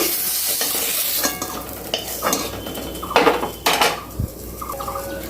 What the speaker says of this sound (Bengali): এই পাত্রটার মধ্যে আমি বেগুন ভাজাগুলোকে তুলে রাখছি।